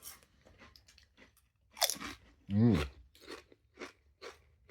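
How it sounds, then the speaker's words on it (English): Loud crunching and chewing of crunchy kettle-style potato chips close to the mic, several sharp bites and grinding chews between brief pauses, with a person speaking a little. "So I'm just chewing away."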